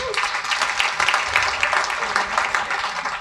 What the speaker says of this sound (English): Clap if at some point you have been 34.